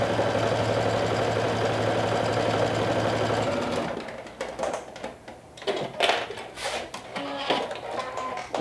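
A sewing machine runs a long basting stitch on a garment front: a loud, steady mechanical whir with fast rhythmic stitching for about four seconds, then it stops, leaving softer handling clatter and rustling.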